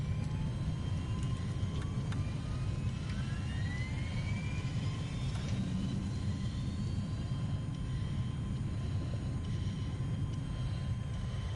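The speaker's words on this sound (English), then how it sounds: "Go to the attack jet. A10." A-10 attack jet in a PS4 flight video game, its engine giving a steady, continuous roar with a faint rising whine throughout, no afterburner.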